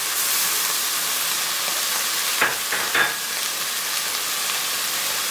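Tomatoes hit a hot frying pan for bolognese and set off a loud, steady sizzle with a couple of brief clatters partway through.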